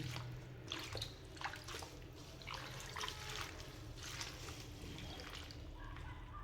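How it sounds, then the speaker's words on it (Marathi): Wild leafy vegetables are washed by hand in a vessel of water, with repeated close sloshing, splashing and dripping in uneven bursts over a constant watery background. "आता आपण अजून 2-3 पाण्याने धुवून घेऊ"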